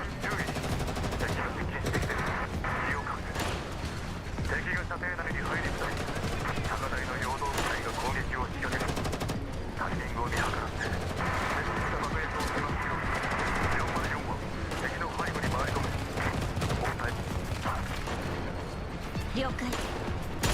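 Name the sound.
gunfire in video game Girls' Frontline 2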